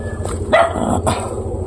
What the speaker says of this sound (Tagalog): May aso sa taas, baka may tao.